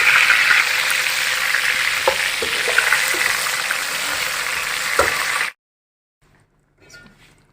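Tomatoes and a potato frying with browned onions in a pan while cooking biryani, a steady loud sizzle with a few sharp clinks, cutting off abruptly near the end to near silence and a faint rustle.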